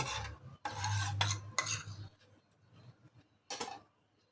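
A spoon scrapes and stirs a milk powder mixture roasting in a pan, in several close, rough strokes separated by pauses.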